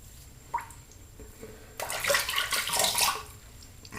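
Running tap water splashes loudly for a couple of seconds as a face is rinsed after a shave, preceded by faint drips and small handling sounds close by, no talking.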